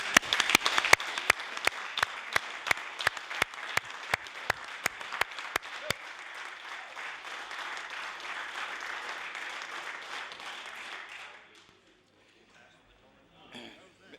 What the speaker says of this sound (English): the Assembly give them a round of applause